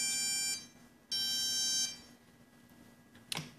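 GoPro Hero 4 camera giving two electronic beeps at recording start, each a sustained tone about half a second and under a second long with a short gap, faint in a quiet room, then a brief click.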